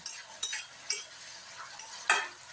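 Tomatoes sautéing in a pan for rohu fish dopiaza, with a few quiet, spaced stirring scrapes and soft clicks over a faint sizzle, and no talking.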